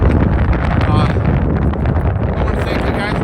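Strong wind gusts blow across a lake by the Sullivanville dam, buffeting the microphone with a loud, roaring rumble that barely lets up.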